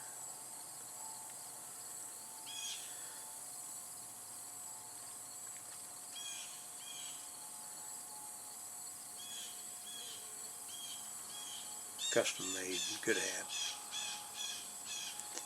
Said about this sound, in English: Blue jays are squawking.